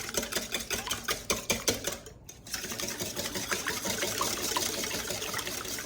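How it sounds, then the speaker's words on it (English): Eggs are beaten by hand with a whisk in a bowl for crepe batter, a quick rhythmic clatter of close tapping strokes that pauses briefly and then runs on as a steady swishing. "Okay, give them a quick whisk."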